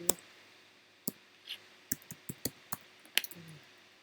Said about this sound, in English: Then what I'm going to do is I'm going to type some text in here.